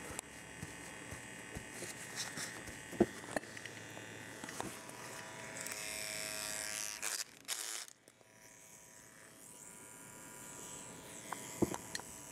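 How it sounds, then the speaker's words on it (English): A Yilong tattoo machine runs continuously with a steady, close electric buzz, briefly cutting out and shifting tone as its needle is moved around and adjusted, then resuming slightly quieter. "that was just me moving the needle around, just see if I can get a better sound out of it, less vibration"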